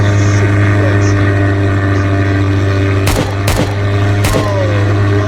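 Three sharp gunshots ring out in a Roblox battle video game, spaced about a second apart, over a steady electronic hum.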